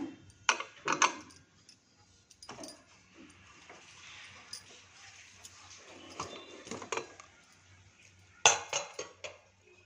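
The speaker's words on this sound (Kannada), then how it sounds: "ಇವಾಗ ಮುಚ್ಚಳ ತೆಗಿಯೋಣ" A pressure cooker lid is opened after two whistles on a fenugreek-leaf rice dish, giving scattered metallic clinks, taps and scrapes, close and moderately loud, with quiet pauses between bursts.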